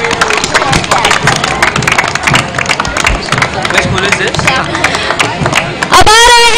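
A parade audience applauds a school band, steady mass clapping and crowd hubbub running throughout, loud and close, with an announcer's voice heard over it and a brief electronic tone near the end.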